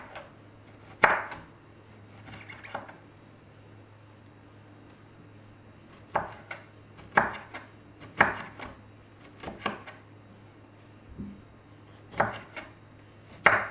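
Knife cutting a lemon into rings on a board while preparing a baked tilapia tray, giving sharp, separate chopping knocks in irregular clusters with quiet pauses between them.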